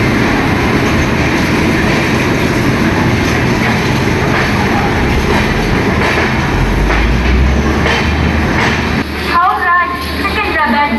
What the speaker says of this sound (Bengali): এটা হচ্ছে ইস্ট কোস্ট এক্সপ্রেস।